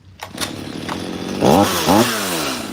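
A new Stihl MS 172 C chainsaw cutting into a raw log, its engine starting low then bogging and rising in pitch twice as it bites, loud and close with no talk.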